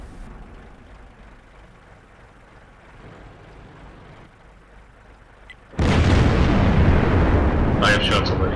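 A single heavy tank gun shot in World of Tanks, a sudden loud boom that rolls into a sustained roar after a quiet stretch of low engine rumble.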